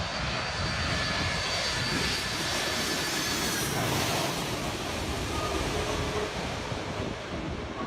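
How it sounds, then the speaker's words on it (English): KLM jumbo jet flying in from Amsterdam to land at Saint Martin airport near the water, a steady loud engine roar sustained throughout, mixed with wind and surf-like wash. "This next clip is the KLM flight flying in from Amsterdam and flying in to land at the airport in Saint Martin."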